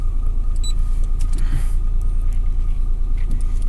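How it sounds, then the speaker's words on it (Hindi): Modified Maruti Omni van engine idling steadily after a start, a close continuous low rumble with a faint electrical hum and occasional small clicks, no talk. "ये गाड़ी मैंने ओपन करके स्टार्ट कर ली है, और बैक कैमरे मोड में डाल देता हूँ मैं इसको।"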